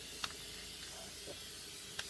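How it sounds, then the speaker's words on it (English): A spray can sprays paint onto the outside of a car during a cooling system rebuild: a faint, steady hiss runs throughout, broken by a few soft clicks. "Look, I'm spraying on the outside of the car."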